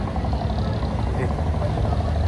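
A small tourist ferry boat on the water in Dubai at night, its engine giving a steady low rumbling drone, with people talking nearby throughout.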